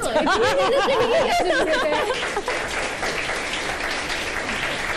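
Studio audience applause fills a TV morning show set, loud and steady throughout, with a voice speaking over the clapping at the start.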